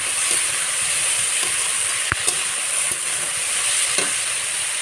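Vegetables fry for a dried shrimp dish with a loud, even, continuous sizzle and a few sharp scrapes and taps from stirring, no voices.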